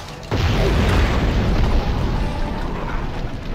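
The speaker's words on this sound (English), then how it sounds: "That man just shot me with a cannon." A cannon shot in the video game Red Dead Revolver bursts in with a sudden loud boom, then leaves a dense, rumbling roar that slowly fades over several seconds with no talking.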